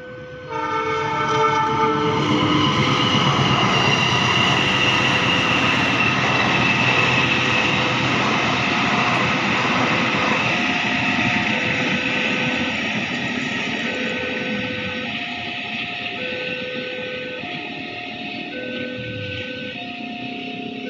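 Argo Wilis passenger train, with a top speed of 120 km/h, passes loud and close near Jombang station, its engine roaring steadily while a horn sounds repeatedly in long and short blasts, then fades slightly.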